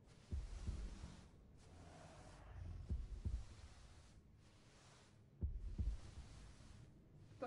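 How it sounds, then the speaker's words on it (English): Heartbeat sound in the video game The Last Guardian: faint, slow paired thumps recurring at an even pulse over a quiet hum, alone with no talk. "I hear a heartbeat."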